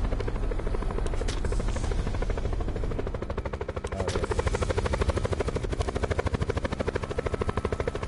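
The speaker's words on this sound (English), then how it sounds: "There's three helicopters." A helicopter in a multiplayer video game flies close by, its rotor producing a loud, rapid, continuous chopping thump that swells slightly midway and keeps a steady pulsing rhythm throughout.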